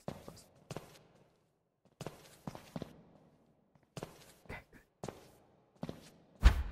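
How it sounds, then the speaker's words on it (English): Footsteps in the game Sneak Thief come in short, evenly spaced pairs and groups of clear steps on a hard floor, separated by silence, ending in a louder thump. "I hear footsteps."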